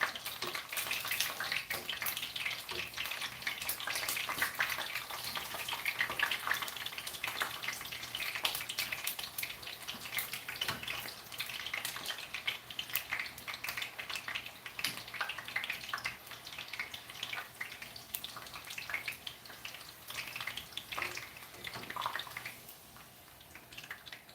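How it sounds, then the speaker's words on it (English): Steady crackling and popping fills the whole stretch, taco filling frying in a hot pan, with fine bright crackles and no voices. "Sizzle pops."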